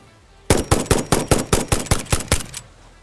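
Gunfire from a weapon in the video game Satisfactory: about nine loud, evenly spaced shots in a rapid burst, close and alone with no talking.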